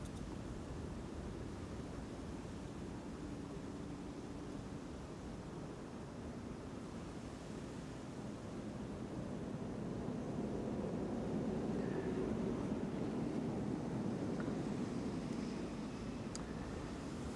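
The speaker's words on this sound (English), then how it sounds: "It's good that there is a bit of wind blowing." Wind blows across the tarmac at Amsterdam Schiphol Airport as a steady broadband rush, swelling slightly midway, with a faint distant aircraft rumble mixed in and no talking.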